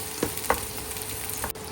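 Ginger and onions fry in a pan with a steady close sizzle, punctuated by a few brief stirring scrapes and clicks.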